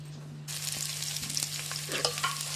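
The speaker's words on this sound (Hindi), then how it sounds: "सबसे पहले ये प्याज को लाइट ब्राउन करती हूँ।" Sliced onions frying in hot oil on the way to light brown, a steady close sizzle with stirring scrapes, no voices.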